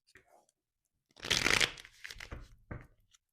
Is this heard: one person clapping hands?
no